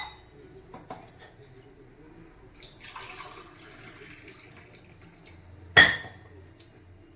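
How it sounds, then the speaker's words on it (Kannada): Water poured from a glass onto ghee-fried rice in a pressure cooker while making palak rice: a soft, quiet pour lasting a couple of seconds, then a single sharp metallic clank of cookware. "ಅಕ್ಕಿಗೆ ನಾನು 2 ಗ್ಲಾಸ್ ನೀರು ಹಾಕ್ತಾಯಿದ್ದೀನಿ"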